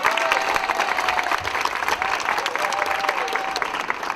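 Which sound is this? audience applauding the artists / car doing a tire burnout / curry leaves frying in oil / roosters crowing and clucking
audience applauding the artists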